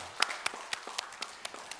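Sparse, light claps from a church congregation, about a dozen dry hand strikes in a loose, uneven rhythm, brief and moderately close with no talking over them.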